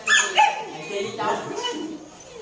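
A dog yips, whimpers and barks in short bursts close by, mixed with excited children's voices talking over it in a farmyard setting near a chicken coop.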